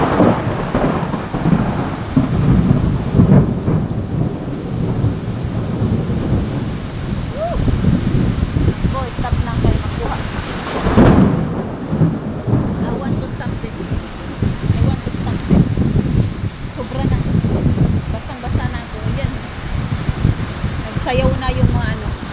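A heavy thunderstorm in Singapore roars steadily, with dense pouring rain and two deep thunder rumbles rolling through, while a person talks excitedly over the downpour.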